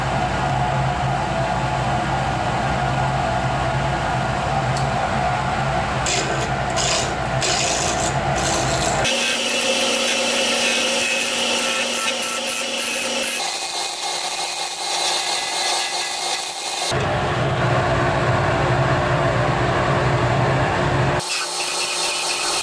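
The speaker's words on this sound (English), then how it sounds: "I'm gonna turn a statue and it's in walnut" Walnut turned on a wood lathe while carving a lady-with-a-hat statue, giving steady rubbing and scraping tool noise with broadband bursts as the cutting shifts, continuous and close with no talk.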